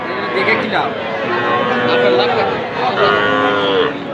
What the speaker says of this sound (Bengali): এইটা এটা কিন্তু সার বাছুর